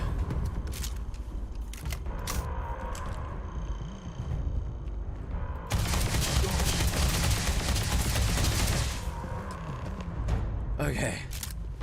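Gunfire in the space video game Starfield: scattered sharp shots early on, then a sustained burst of rapid fire lasting several seconds, followed by a few more isolated reports under ongoing game sound.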